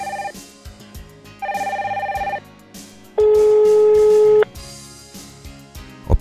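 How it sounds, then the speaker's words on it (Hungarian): Telephone emergency call from a panic button, dialing and ringing through to a contact: a sequence of steady electronic ring and dial tones in separate bursts, loud and clear with no talk. "A vészhívás először az ön által meghatározott ismerősénél vagy rokonánál fog csengeni."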